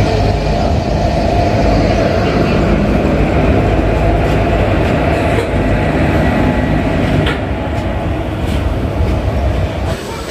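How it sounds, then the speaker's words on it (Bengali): An Azimganj–Krishnanagar local train hauled by a WFE4 engine pulls into a platform at Azimganj Junction, a loud, close, continuous rumble of wagons and wheels with faint metallic clatter and squeal. "এই হচ্ছে আমাদের ট্রেন WFE4 ইঞ্জিনের সাথে"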